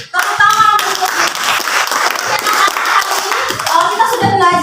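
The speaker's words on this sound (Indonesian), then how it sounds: "Tepuk tangan untuk" Students in a chemistry classroom applaud during a lesson on electrolyte solutions, loud, close clapping from many hands with some voices mixed in.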